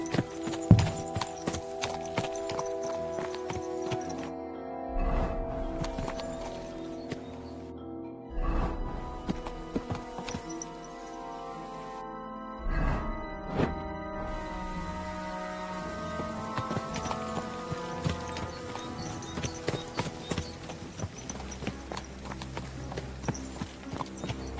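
Horse hooves clip-clopping in the medieval video game Kingdom Come: Deliverance II, a run of rhythmic hoofbeats with game music and brief pauses, clear and fairly near.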